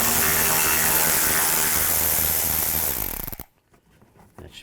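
Power ratchet with a T20 socket spinning out a shield screw on a 2007-16 GMC Acadia, a loud continuous whirring buzz for about three seconds before cutting off to quiet clatter.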